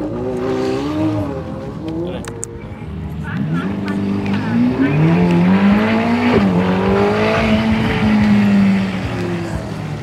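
A 720-horsepower racing car engine roars and revs through a video game drag race, its pitch climbing and falling across shifts, loud and continuous with people talking over it.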